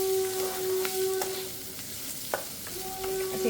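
Food fries in a pan with a steady sizzle, a sustained tonal hum underneath, and a few sharp clicks of a utensil against the pan.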